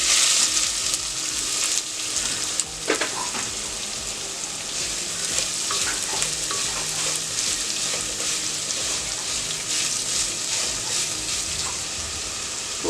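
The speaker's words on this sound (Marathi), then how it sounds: "कांदा घालून घेऊया।" Sliced onion frying in hot oil with whole spices for a methi chicken gravy, a continuous loud hiss and crackle close by, with a few scraping stirs and no voices.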